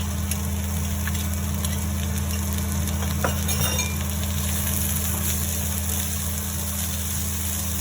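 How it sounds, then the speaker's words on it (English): Quinoa with cooked vegetables and blanched green peas sautéing in a pan gives a steady, even sizzle throughout, with a few faint clinks of a utensil over a low background hum. "Saute for few minutes."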